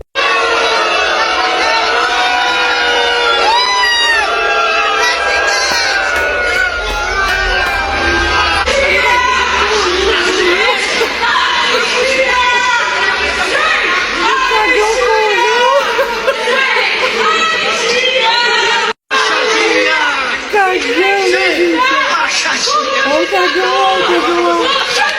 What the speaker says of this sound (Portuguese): eu vou mostrar pra vocês que o Flávio Bolsonaro foi vaiado